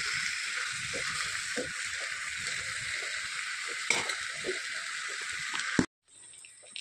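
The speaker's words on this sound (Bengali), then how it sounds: "এরকম কড়াইতে পুরো ঢেলে দিতে হবে চারপাশে।" Batter or mixture poured into a hot wok sizzles loudly and steadily, with stirring scrapes and bumps through the frying until it cuts off abruptly to near quiet.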